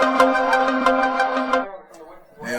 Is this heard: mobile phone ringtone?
yes